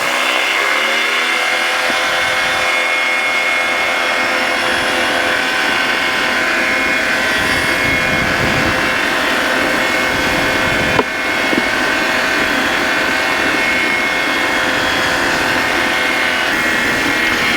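Droning engine of a Flexwing microlight aircraft building to a steady, loud roar on the takeoff run, rising in pitch at the start and then holding constant without speech.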